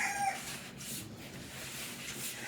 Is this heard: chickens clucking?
yes